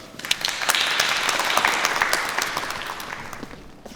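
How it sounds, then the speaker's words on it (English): An audience at a social enterprise event gives a speaker a round of applause. The clapping is close and dense, with sharp individual claps, and fades gradually over four seconds. "Big round of applause, please"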